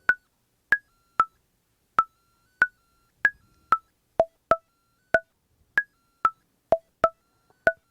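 Nord Micro Modular synthesizer running a sequencer patch, producing a steady series of short, plucked, bell-like notes at shifting pitches, about two per second, clean and alone with no talking.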